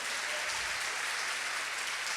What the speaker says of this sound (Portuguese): Então dê um forte aplauso a Ele.